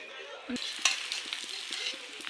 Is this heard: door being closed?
no